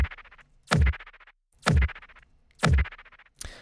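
A sci-fi portal gun shot effect, built as sound design, fires three times in a steady rhythm with a fourth burst beginning. Each is a sharp, bright, loud blast with a fizzing tail, up close and without any talk.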